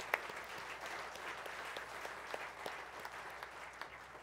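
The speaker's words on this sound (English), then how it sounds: "And we applaud you and we salute you, Simanga." An audience at a horse racing champions' awards ceremony applauds steadily, a soft, even patter of many hands heard from a distance.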